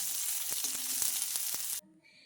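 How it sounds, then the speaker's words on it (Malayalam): Hot oil sizzles loudly with sharp pops and crackles as mustard seeds splutter, then the noise cuts off abruptly, leaving faint background sound. "ഈ വറുത്തുകോരിയ എണ്ണയിലേക്ക് 1/2 ടീസ്പൂൺ കടുകിട്ട് കൊടുക്കാം"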